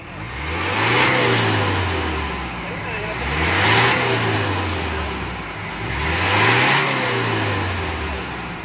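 A car engine fitted with an anti-smoke-belching device revs up three times in slow, even swells, close and fairly loud, each rise falling back toward idle.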